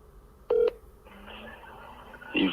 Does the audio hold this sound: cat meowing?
no